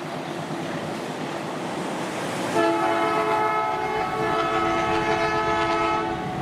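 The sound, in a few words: Gaya Baru Malam Selatan passenger train passing with horn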